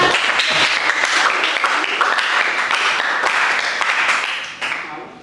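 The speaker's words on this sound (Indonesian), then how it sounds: "Ya, berikan tepuk tangan." Steady applause from a classroom group after a sociology group presentation, dense clapping holding evenly for several seconds before tapering off at the end.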